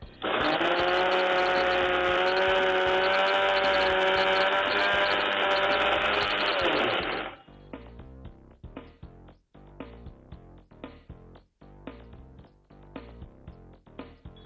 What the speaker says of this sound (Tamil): இப்ப வந்து நைஸா அரைச்சுக்கணும்.